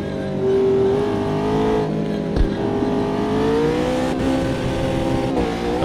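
A McLaren GT3 race car in Automobilista 2 at the Circuit of Jerez, its engine droning steadily and rising in pitch, with gear shifts dropping and climbing the note, loud and close throughout.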